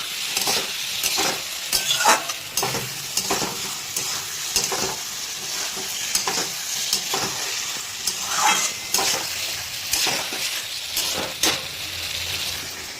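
Chopped tomatoes tip into ginger paste frying in a pan for a pabda fish curry with potato and aubergine, a close, steady sizzle with stirring scrapes and soft clatters throughout.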